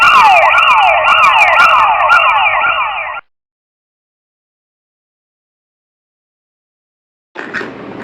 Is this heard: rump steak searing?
no